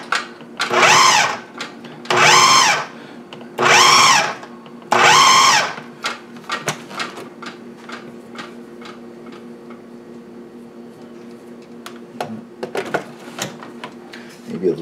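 A food processor cutting cold butter into flour for biscuits runs in four loud pulses of about a second each, followed by quieter clicks and rattling of the bowl.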